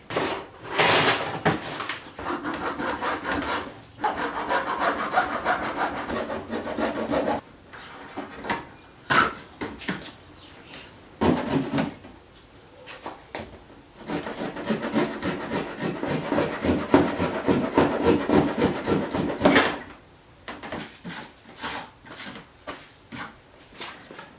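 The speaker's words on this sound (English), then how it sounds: "I'm going to just cut them out with a hacksaw" Hacksaw cutting through plastic bumper supports on a Ford Fiesta ST during an intercooler install, with rapid rasping back-and-forth strokes in uneven bursts and short pauses, close and moderately loud.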